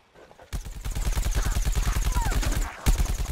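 Rapid automatic gunfire from Plants vs Zombies Garden Warfare fires in a steady burst of evenly spaced loud shots for about two seconds, then breaks off and a few more shots follow.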